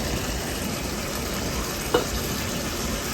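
Potatoes hit a pan of pork already cooking, giving a steady close sizzle with one brief clack partway through and no voices.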